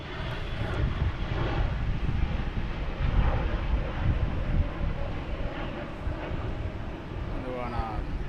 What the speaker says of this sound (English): And just a mystery plane going to parts unknown.